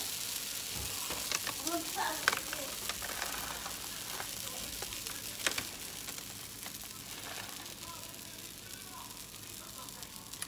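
A sugar-free pancake frying in a pan, giving soft continuous sizzling with occasional small crackles and pops, close and fairly quiet, while someone talks over it.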